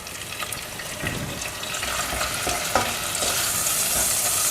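Punjabi-style potato curry with mint leaves sizzles and fries in a pan while a spoon stirs and scrapes it, a steady close hiss with soft clinks and no talking.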